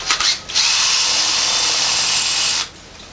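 A power drill bores slowly into the head of a stripped Allen hex bolt on a motorcycle engine, a steady high whirring grind lasting a couple of seconds after a brief start-stop, close and alone.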